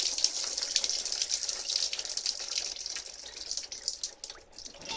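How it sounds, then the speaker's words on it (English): Coolant pours out of a Kia Sedona 2.9 CRDi engine in a steady, splashing gush that runs the whole time with no pause, close and moderately loud. "A lot of coolant going out from inside."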